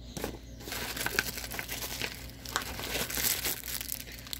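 Plastic packets from a Polish Army ration crinkle and rustle continuously at close range, with uneven crackles and no voices.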